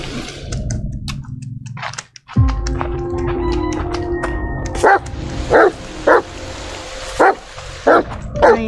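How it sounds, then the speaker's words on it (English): Dog barks from The Medium video game, five or six short sharp barks spaced irregularly over a steady ambient game soundtrack with a low hum, following a brief dip in the background. "Can I interact with the dog?"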